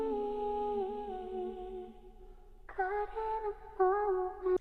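A soft, sustained sung vocal line drifts through a few held notes, quiet and smooth, with a slightly brighter phrase entering near the end.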